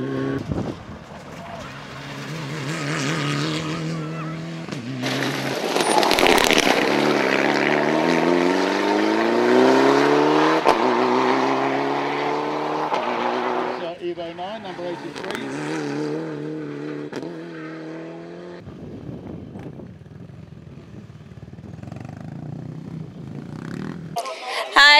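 Rally cars at the Rally Barbados 2012 King of the Hill event pass a gravelly stage corner, engines rising and falling loudly as they brake and power through, followed by quieter idle stretches.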